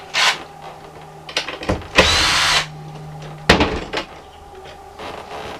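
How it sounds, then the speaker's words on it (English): A power drill backs a screw out during a home repair, giving a couple of short whirring bursts close by with clicks and handling knocks in between, and no talking. "so take this screw out right here"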